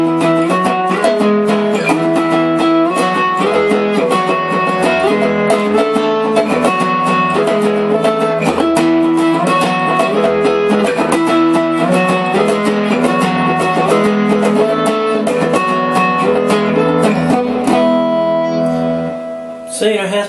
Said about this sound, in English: it has pretty convincing electric guitar sounds